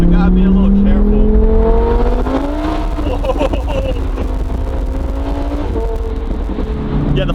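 A rear-wheel-drive Lamborghini Huracan accelerates hard from a standstill, its engine note rising steadily through the gears with loud, continuous revving, close and dominant with no talk over it.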